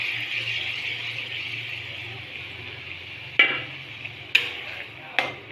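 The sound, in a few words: frying onion, ginger and garlic paste for mutton curry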